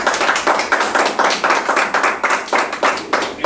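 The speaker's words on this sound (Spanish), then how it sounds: "Aquí nos recibimos con un caluroso aplauso." An audience claps warmly to welcome storyteller Freddy Ayala at an international storytellers' gathering, with close, dense, evenly pulsing clapping that holds steady for the whole stretch.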